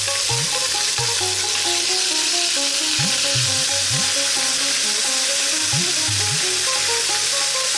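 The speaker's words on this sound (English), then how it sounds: "curry leaves, these fresh curry leaves, which can be quite noisy, so let's hold tight" Fresh curry leaves and finely chopped onion sizzle loudly in hot oil for an Indian fish curry, a dense steady crackle running throughout with intermittent low bubbling pops and thuds near the pan.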